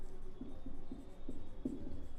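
Chalk or marker writing on a board during a maths lesson, a faint series of short scratchy strokes in a quiet room, five or six light taps and scrapes in irregular rhythm.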